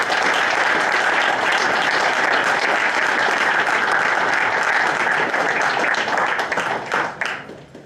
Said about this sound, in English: Nice round of applause for the Section 2 champions.